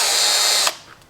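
A power drill with a bent, wobbling chuck whirs at high speed, loud and steady, then cuts off and spins down abruptly near the end.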